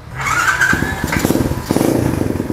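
A starter whines briefly on an HSX 110 mini trail motorcycle before the small single-cylinder engine catches and settles into a close, lumpy, pulsing idle with a quick blip.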